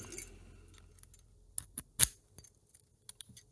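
A key turns in a master-keyed lock cylinder, giving small metallic clicks and jingles in a quiet room, with one sharper click partway through.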